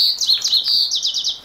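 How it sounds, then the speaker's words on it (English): A bird chirps loudly and close by outdoors in a quick run of bright, rising and falling tweets, clear over a faint background breeze. "That bird is so loud."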